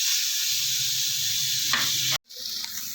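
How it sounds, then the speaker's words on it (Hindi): Small minced pieces of chicken fry in hot oil with a steady, loud, close sizzle that cuts out briefly and then resumes. "चिकन जो है वो फ्राई हो चुका हमारा"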